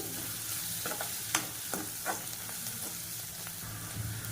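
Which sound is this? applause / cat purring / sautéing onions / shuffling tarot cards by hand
sautéing onions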